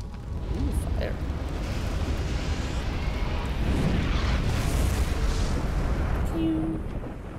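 A fire spell cast in the Dark Souls video game: a dense, roaring blast of rumbling flame that sustains at steady loudness for several seconds before easing slightly at the end.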